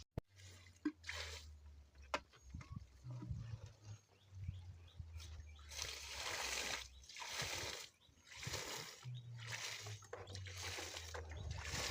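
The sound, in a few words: watering tomato seedbed with water from a bucket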